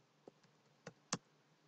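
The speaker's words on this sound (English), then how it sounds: "that was clicking my mouse key" A computer mouse's left button clicked while working in cutting-machine design software: a few faint, sharp clicks spaced irregularly over a quiet background.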